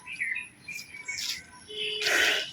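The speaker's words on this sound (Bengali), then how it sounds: "কুকিলের ডাকটা আছে" A koel calls outdoors in a rural village setting with a few faint, clear chirping notes and a brighter burst near the end, alone against a quiet background.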